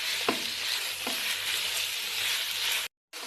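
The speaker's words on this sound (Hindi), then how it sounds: "ये कीमे को मैं फ्राई कर लूँगा" Minced meat frying in a pan with whole spices, producing a loud steady sizzle close by with a couple of sharp stirring knocks, then a brief silent gap before the sizzling resumes.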